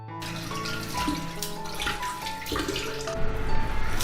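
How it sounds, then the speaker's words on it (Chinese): Tap water runs steadily over blanched beef brisket being rinsed clean in a kitchen sink, a continuous close splashing stream that swells louder near the end. "牛腩焯烫好了就捞出来清洗干净"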